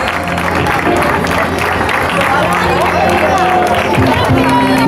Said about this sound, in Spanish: Flores, quien si no, de la Hermandad Vicen, por favor, un aplauso para ella.